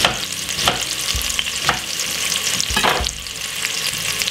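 Cabbage stir-frying in a pan for Jamaican home cooking: a loud, constant sizzle broken by repeated sharp scrapes as the food is stirred at uneven intervals.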